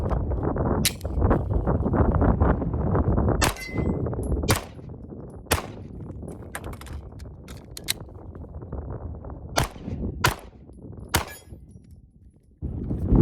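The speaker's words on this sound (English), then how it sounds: "I'm gonna shoot at the 25-yard mark, and then we're gonna do a reload with this pistol." A Ruger RXM 9mm pistol fires on an outdoor range at 25 yards. Sharp, loud single shots come in an irregular series, some ringing off a steel target, with faint background noise between them.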